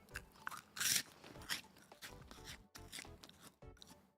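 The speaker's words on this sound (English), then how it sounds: "Loudest crunch, you want it again?" A crunchy snack is bitten and chewed close to the microphone, with one loud sharp crunch followed by several softer crunching and chewing bursts.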